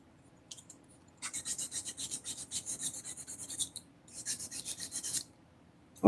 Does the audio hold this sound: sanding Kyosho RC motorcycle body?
yes